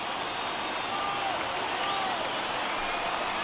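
Stadium crowd cheering in MLB The Show 21 during a Marlins versus Mets game, a broad steady roar from a large audience holding at an even level without commentary.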